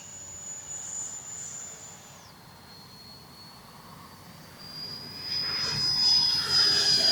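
An E-flite F-16 Thunderbird 70mm electric ducted-fan RC jet whines steadily at takeoff, its high tone dropping then rising as the roar grows louder and nearer toward the end.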